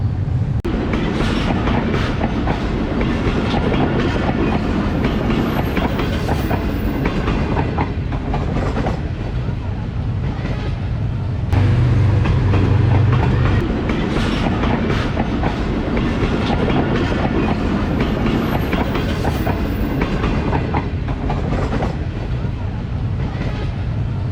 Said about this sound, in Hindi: अब जाफर एक्सप्रेस G24-553 के साथ। ये क्वेटा से आती है और पेशावर जाती है।